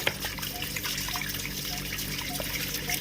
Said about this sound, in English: from here now you can see the water flowing from the gutter